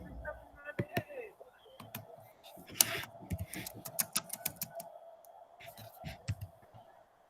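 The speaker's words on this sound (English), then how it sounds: "I still hear some typing." Students typing on computer keyboards in an English class, scattered soft key clicks in irregular bursts under quiet classroom talk and low room hum.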